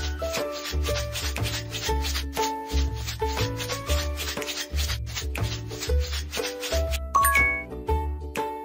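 A soft rubbing effect from a baby-care video game as baby powder is worked into a baby doll's skin, layered over bright, chiming game music that plays steadily throughout.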